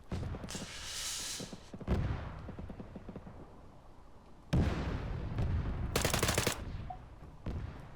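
Rifle gunfire in the military shooter ARMA 3, an M4A1 Block II SOPMOD in a city battle: several sharp, loud bursts of shots with echoing tails and gaps of quieter ambience between.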